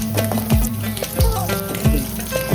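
Peanuts and chana dal frying in hot oil for puliyogare, a steady sizzle broken by about four scraping stirs of a spoon against the pan, with no talk.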